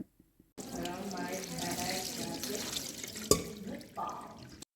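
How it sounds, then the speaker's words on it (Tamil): Running tap water rinsing cooked pasta in a kitchen, a steady splashing stream that starts abruptly and runs for several seconds, with a clunk midway. "நல்லா தரோலி வந்து வாட்டரை போட்டு ரின்ஸ் பண்ணி அதை நல்லா கழுவி எடுத்துக்கோங்க"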